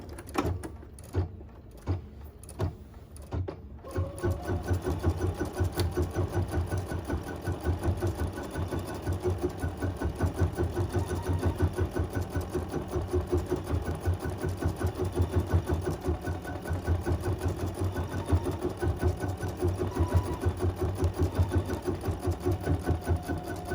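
A sewing machine quilts an in-the-hoop piece with cotton-polyester blend thread, a few short starts followed by a long, even, rhythmic mechanical hum that keeps going at close range.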